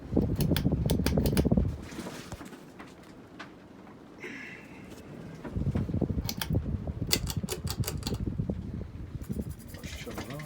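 A Hunter Infiniti ceiling fan runs with a steady mechanical whir and faint rhythmic ticking, louder at the start and again in the second half, with a quieter stretch in between.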